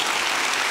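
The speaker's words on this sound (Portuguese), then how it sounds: "uma salva de palmas" A religious television audience breaks into dense, uniform applause for a guest, a brief continuous burst of many hands clapping.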